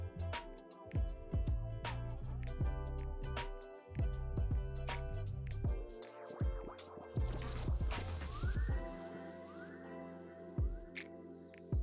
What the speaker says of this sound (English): I will add the vegan butter cut into cubes and mix it until I get a sandy texture